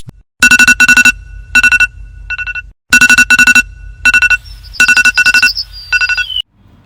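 A morning alarm rings in a hotel room in Dubai as loud repeated bursts of electronic beeping, grouped in quick clusters with short pauses between them.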